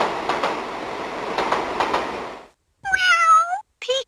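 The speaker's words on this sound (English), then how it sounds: "Peekaboo. I'm an orange cat. Meow." On a 2015 VTech Pop-Up Friends toy train, a chugging clickety-clack rail rhythm runs for a couple of seconds, stops, then a bright electronic cat meow rings out, with a brief second note after it.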